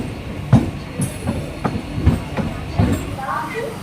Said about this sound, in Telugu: తిరుత్తని రైల్వే స్టేషన్కి అయితే వచ్చేసింది మన ట్రైన్